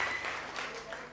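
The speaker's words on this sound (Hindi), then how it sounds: "जोरदार तालियां हमारी बहन के लिए होनी चाहिए" Studio audience applause on a Ramzan television game show, a brief burst of clapping that fades slightly, mixed with crowd noise.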